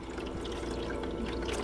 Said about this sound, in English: maybe that means the water's filling up or something